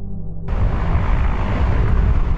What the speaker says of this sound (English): The sound of rushing water is drowned out by helicopters sent from Israel.